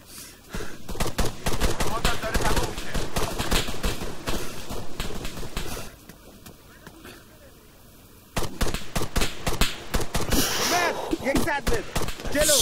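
Gunfire in the military shooter game ARMA, bursts of rifle shots cracking in quick succession through most of the stretch, with a quieter pause midway before the firing resumes loud and dense.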